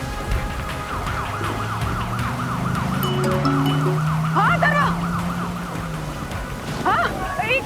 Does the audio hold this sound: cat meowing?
no